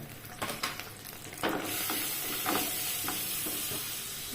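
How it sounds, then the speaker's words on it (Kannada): Ginger garlic paste and chilli powder fry in a pan with a steady close sizzle, broken by a few stirring scrapes early on before the hiss settles into a continuous bubble. "ಒಮ್ಮೆ ಚೆನ್ನಾಗಿ ಫ್ರೈ ಮಾಡುವ"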